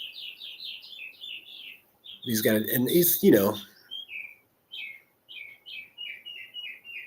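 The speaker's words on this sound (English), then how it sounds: "Those are just birds that like to be close to where I am, singing songs." Wild birds sing outdoors in a rapid, repeated high chirping phrase, fairly close. A voice briefly talks over the middle of the song before the chirps return.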